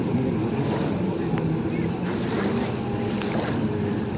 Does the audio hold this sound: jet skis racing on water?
yes